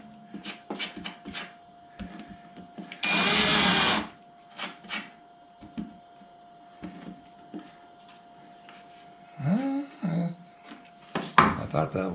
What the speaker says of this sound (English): I'm going to go ahead and countersink these holes